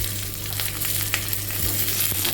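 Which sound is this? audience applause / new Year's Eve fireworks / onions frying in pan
onions frying in pan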